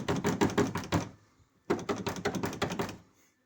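Rapid rattling knocks from the steering rack area of a restyled Ford Focus 2, two bursts of quick rattling taps close up, separated by a short silence, with no talking.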